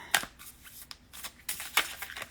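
A deck of cartomancy cards is shuffled close by in quick, crisp bursts of riffling and flicking, with short pauses between the bursts.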